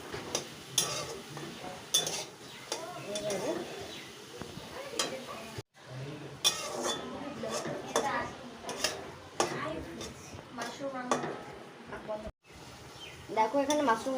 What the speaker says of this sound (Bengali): এখন এটাকে জাস্ট আমি অল্প ভাজবো,